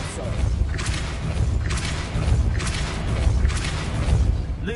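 Spell-casting effects from the Hogwarts Legacy video game on PS5, a Depulso force spell: repeated whooshing bursts roughly every second over a steady low rumble of game sound, with some speech.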